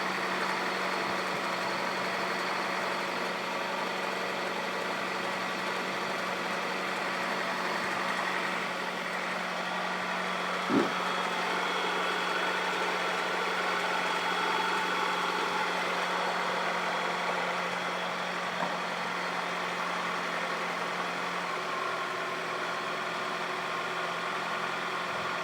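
A car engine idling after a radiator replacement, a steady low hum with a constant drone, one brief knock partway through, running alone without voices.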